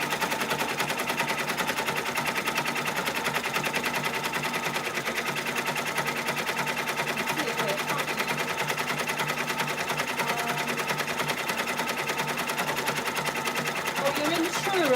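Embroidery machine stitching out an appliqué rainbow design on a T-shirt, a fast steady rattling hammer of needle strikes that holds unbroken throughout, loud and close, with faint sounds in the background.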